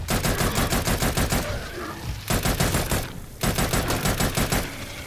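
Rapid automatic gunfire in the virtual reality shooter Farpoint (PSVR) comes in three loud, sustained bursts with short pauses between them. No one talks over the firing.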